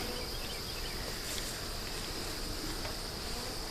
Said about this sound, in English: Bunch of bees on the inner cover.